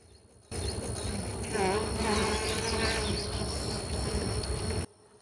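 Honey bees buzz as they emerge from a hive during a mite check, a steady, close swarm hum that starts abruptly, swells slightly and cuts off after a few seconds.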